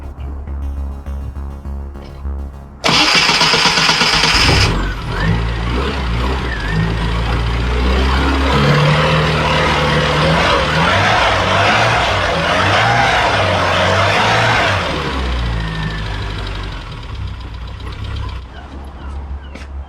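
Classic Mini engine starting with a loud burst, then running and revving steadily for a long stretch before settling down, close, loud and rough, with no talk.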